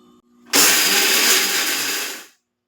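A mixer grinder whirs loudly for about two seconds, a steady high-pitched motor roar grinding biscuits into powder, then cuts off to silence.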